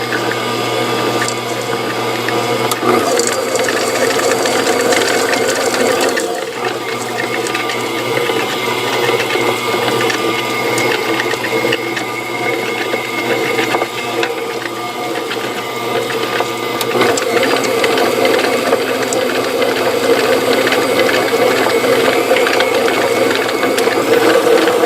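An electric stand mixer runs steadily, churning a stiff peanut butter ball mixture of peanut butter and powdered sugar, a continuous loud mechanical whir with a low motor hum that holds for the whole stretch.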